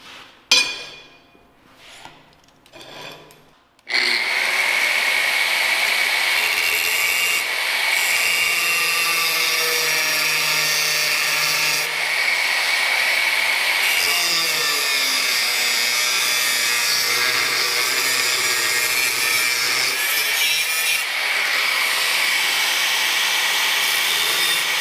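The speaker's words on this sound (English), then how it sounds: "Now I'm gonna cut them off with the angle grinder." Angle grinder cutting off the corners of a forged iron door handle, a loud sustained close whine with shifting pitch after a few seconds of quieter handling noise at the start.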